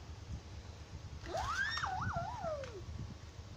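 A toy police car siren wails in a rising and falling electronic tone for over a second, moderately loud against a low background rumble, with no talking.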